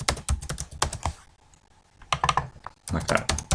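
Rapid typing on a computer keyboard, close and crisp, comes in clusters of keystrokes with a short lull in the middle, and a person talks at times over the clicking.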